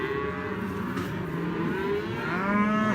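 Cattle on a ranch moo loudly and close, one long drawn-out low call sliding upward in pitch, with another animal joining toward the end, no talking.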